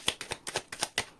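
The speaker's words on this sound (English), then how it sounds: "Last shuffle." A tarot card deck shuffled by hand in a run of about seven crisp riffling snaps, close and fairly loud, with no talk.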